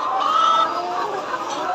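Laying hens on a poultry farm keep up a dense, continuous chorus of clucking and cackling, close and fairly loud throughout.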